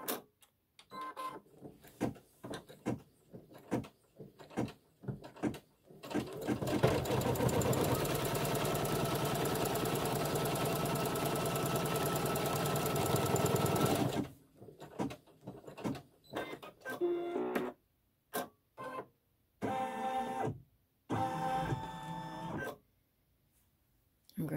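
Embroidery sewing machine stitching the outside seam line of a quilt block, a steady continuous mechanical whir lasting several seconds, with bursts of talk before and after it.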